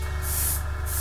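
An airbrush sprays primer onto a miniature Furioso Dreadnought model, giving a steady close hiss of air and paint that swells in two bursts over a constant low compressor hum.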